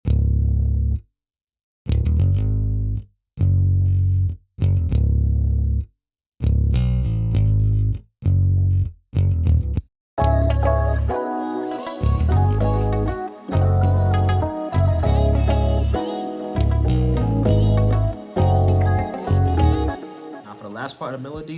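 A bass melody from a Kontakt instrument in FL Studio, written for an Afrobeats track, plays in short bouncy punchy notes with gaps between them, then continues under a fuller mix of layered parts.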